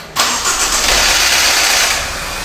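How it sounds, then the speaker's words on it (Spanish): A Land Rover Discovery with a faulty intake cam phaser cranks and fires up loudly, then settles into a steady, rough-edged idle close by. "Mirá esta Land Rover Discovery cómo sonaba al arrancar."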